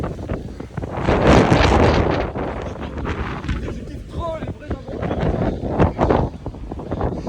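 Strong wind buffets the microphone on a sloping trail in the Middle East, making loud, uneven roaring gusts that rise and fall, with a few faint bird-like chirps and no clear speech.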